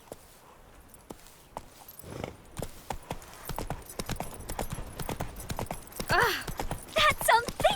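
Roach the horse walks in The Witcher 3, hooves clip-clopping in a steady rhythm that grows louder and busier toward the end, with voices talking over the hoofbeats.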